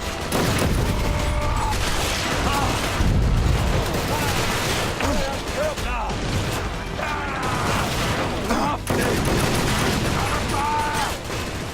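Gunfire from the shooter game Inversion, dense continuous shots and mechanical clatter running throughout under a voice talking.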